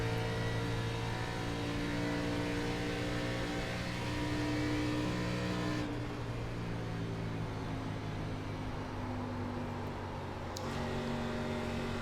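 An ARCA race car engine at Pocono in iRacing drones loudly and continuously, its pitch steady then shifting as the throttle eases and comes back on, with no voices.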